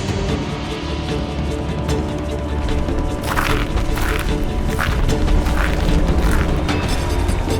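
Asteroid impact explosion blasting the Earth's crust outward, a loud continuous roaring rumble with rising crashes and cracks building toward the end, no talking.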